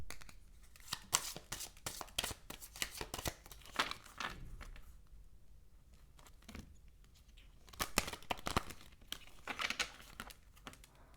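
Archangel Gabriel oracle cards are shuffled by hand, giving soft crinkling riffles and slides in uneven bursts, close and fairly quiet with short lulls between.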